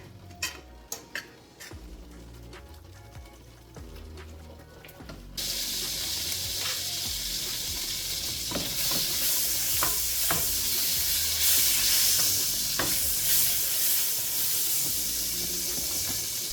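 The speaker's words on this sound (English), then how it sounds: "now I'm going to be adding some butter to the pot and also a little bit of oil" Butter and a little oil heating in a cooking pot for Jamaican steam fish, first quiet clinks and taps, then a loud steady sizzle that swells and holds, close with no talking.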